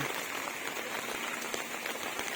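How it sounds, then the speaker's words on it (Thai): Heavy rain falls steadily during a flood in Pattani, Thailand, a dense close hiss of drops pattering on surfaces without a break and with no voices. "ฝนยังตกอยู่นะครับฝนยังตกอยู่นะครับตกมาเรื่อยๆเลยนะครับผม"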